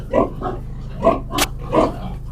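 Pigs and piglets on a farm grunt and squeal in several short, close bursts spaced about half a second apart, with a steady low hum underneath.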